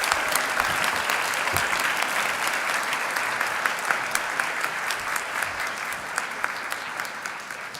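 Steady, dense applause from a large audience at a school commencement ceremony, continuous and even throughout with no voices rising above the clapping.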